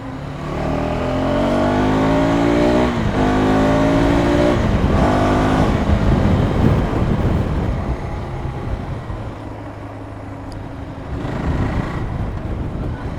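A motorcycle engine revs hard again and again. The loud, rising whine sweeps up in pitch and then settles to a steady roar, with no talking.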